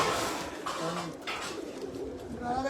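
Soft coos of racing pigeons rise and fall amid a busy, noisy background, with some faint voices murmuring nearby.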